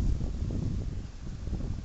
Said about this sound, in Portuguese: O vento aqui está difícil.